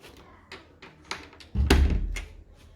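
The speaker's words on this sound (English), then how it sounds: "And this is the crypt door." An old crypt door at a chapel in Virginia City is opened with a few light knocks and taps, followed by a heavy, scraping thud that lasts about a second.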